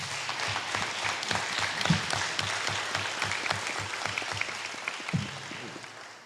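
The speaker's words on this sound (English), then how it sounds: "Ladies and gentlemen, will we have a round of applause for all of our candidates?" A crowd at a congressional district candidates forum gives the candidates a round of applause, with steady, dense clapping throughout and some louder individual claps standing out close by.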